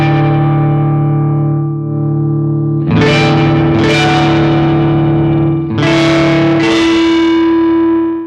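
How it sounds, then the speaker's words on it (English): A Telecaster electric guitar runs through the Audrey II feedback synth, its input gain pushed into a slightly resonant, gnarly distortion: a sustained fuzzy chord fades, then two pairs of loud, sharply struck chords ring out with buzzy overtones and no talking. "now here it is just using the input gain as a slightly resonant gnarly distortion"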